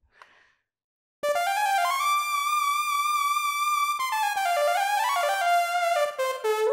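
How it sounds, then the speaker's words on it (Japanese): Roland Aerophone Pro AE-30 wind synthesizer plays a vintage analog-synth-style lead: after a short quiet start, a bright sustained tone holds, then slides and bends through a short melodic phrase, loud and clear with no voices. "昔懐かしいアナログシンセサウンドをちょっと彷彿とさせるような音を作"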